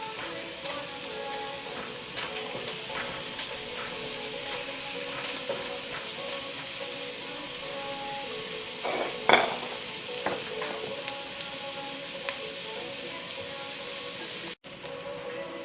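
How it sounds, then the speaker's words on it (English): Garlic browning to a light golden colour in a pan for sautéed Brussels sprouts with cranberry: a steady, close, even sizzle throughout, with a few brief louder crackles and stirring clicks partway through. "So we'll brown the garlic."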